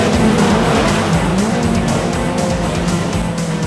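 Race trucks roar continuously around a small stadium dirt course, their engines loud and close, with tires squealing and skidding through the turns.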